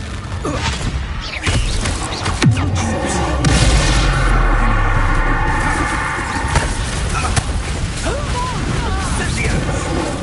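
A Confringo fire spell goes off in Hogwarts Legacy, with booming blasts and crackling impacts amid ongoing combat effects, loud and near, while voices speak over the action.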